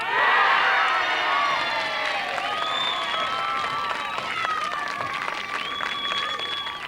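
A tennis crowd cheering and applauding British doubles winners, with loud sustained whoops, whistles and clapping from many people, fading slightly but continuing throughout.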